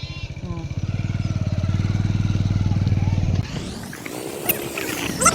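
A motorcycle engine thrums close by with a steady rapid pulse. It breaks off into wind and road noise as the bike rides away on a route to a hill.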